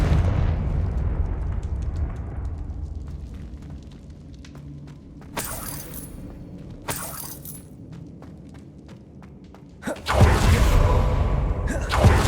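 Confringo fire spell bursts in Hogwarts Legacy combat, sharp shattering explosions hitting twice in quick succession and then a bigger, sustained blast near the end, over a low rumbling game soundtrack.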